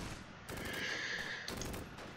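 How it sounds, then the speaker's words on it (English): Artillery shelling in the Close Combat: Gateway to Caen war game, a dense rumbling barrage of blasts and crackling fire that swells and holds, with no talking over it. "they're shelling us pretty good now"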